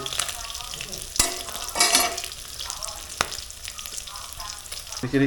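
Fish fries in hot oil in a home kitchen, a steady crackling sizzle up close with a few sharp clicks and bursts of spattering scattered through it, no voices.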